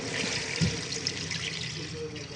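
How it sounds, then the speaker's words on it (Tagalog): Water is poured into a pot of salted chicken for Filipino sinampalukang manok, a steady splashing flow that runs throughout, fairly loud and close, with no talking. "Lagyan na rin po natin ng tubig."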